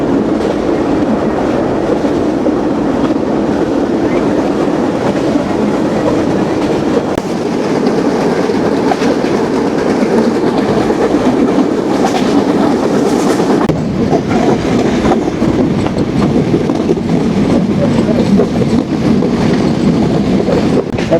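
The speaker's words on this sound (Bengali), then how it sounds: "এমন একটা টান দিয়েছে আজকের কপোতাক্ষ এক্সপ্রেস, যেটির গতি হবে 100 কিলোমিটার" Kapotaksha Express on the Khulna to Rajshahi run, travelling at around 100 km/h: a loud, constant roar and rattling clickety-clack that surges briefly midway and carries on steadily.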